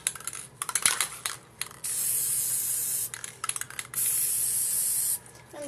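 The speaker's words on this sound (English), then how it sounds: "making sure I'm just doing a spray seal on the Mod Podge" Aerosol spray sealant hissing onto a Mod Podge fabric cup in two long, steady bursts of about a second each, close and loud, with small handling clicks and taps before and between them.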